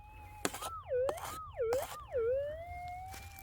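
A metal detector over a possible small gold target gives three warbling, swooping electronic tones in a row, faint, with soft clicks and bumps of digging between them and no talking.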